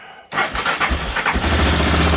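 A cold Aprilia Pegaso motorcycle, choke on, cranks briefly and catches, bursting into a loud, uneven close-up engine roar after a quiet moment.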